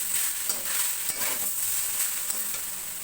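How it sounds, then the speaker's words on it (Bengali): Chalta pickle frying in hot oil while being stirred, a dense continuous sizzle with small clinks of the spoon against the pan, close and fairly loud, no one speaking. "আমি তেলে কষে নিয়েছি"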